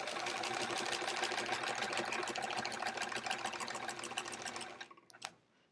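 A sewing machine hums in a steady fast run while stitching straight horizontal quilting lines, close and moderately quiet, slowing and stopping near the end.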